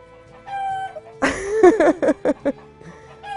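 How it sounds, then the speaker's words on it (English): Hens cluck and cackle loudly nearby in a burst of rhythmic calls after an egg is laid, with a rooster among them, over faint musical tones. "So that's the rooster announcing that an egg has been laid."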